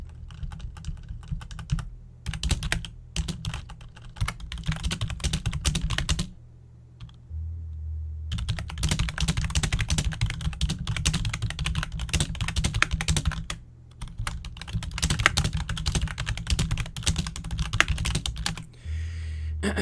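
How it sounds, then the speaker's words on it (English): Someone types on a computer keyboard in long, dense runs of rapid clicky keystrokes, close up. A few brief pauses break the runs, and no one talks. "I'm just typing this out"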